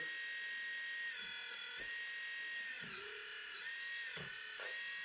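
The hydraulic motor of a WAVE-RC EC160E RC hydraulic excavator runs with a steady high electric whine, its pitch dipping and rising as the load shifts, accompanied by a few low knocks, with no talking.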